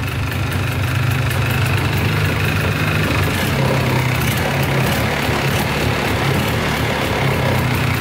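A used two-stroke ATV idles steadily up close, a loud continuous engine drone with a slight rattle running evenly throughout.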